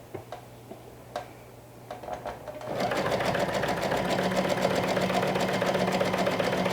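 Sewing machine stitching elastic along a fabric edge on a Kelli/Charli garment, preceded by a few light ticks and taps. It then settles into a fast, even, close-up run of stitching until the end.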